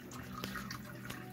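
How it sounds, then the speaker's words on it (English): Water splashes and trickles softly over meat held in a strainer while the blood is rinsed out, a faint, continuous wet patter with a few small drips. "He's putting water through it so he gets all the blood out."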